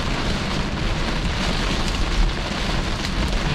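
Heavy rain pours onto a car driving through a downpour, a dense, loud, steady hiss that fills the whole stretch with no pauses.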